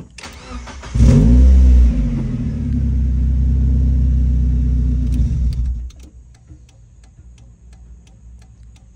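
A Mazda Miata with impact damage starts and its engine revs loudly at a drift event at Evergreen Raceway, holding a steady high idle for several seconds before dropping to a quieter idle with faint ticking.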